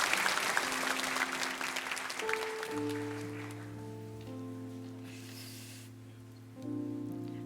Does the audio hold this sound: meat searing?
no